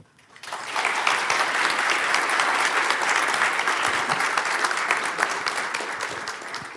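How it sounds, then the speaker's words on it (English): A conference audience at a keynote claps loudly and steadily for several seconds, a dense wash of applause that swells quickly after a quiet start and holds without voices. "So please give her a really,"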